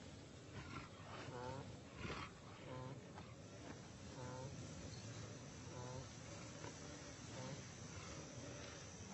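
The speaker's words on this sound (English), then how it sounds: "A lion, alerted by the noises, emerges from a thicket." A wild lion gives low rumbling roars and growls in the bush, recurring through the stretch beneath a narrator's voice that talks steadily over it.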